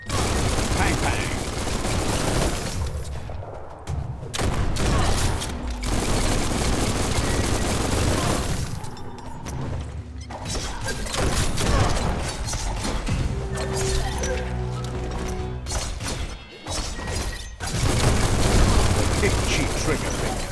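Sustained gunfire and blasts rattle through Biomutant combat, a dense barrage of shots and booms running almost nonstop at close range with brief dips, while game voices and effects mix in underneath.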